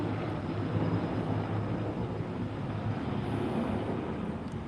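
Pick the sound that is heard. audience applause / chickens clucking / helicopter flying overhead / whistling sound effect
helicopter flying overhead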